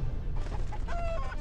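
A hen clucks in the What The Hen! video game, a short burst of mid-pitched clucking over a steady game background with no speech.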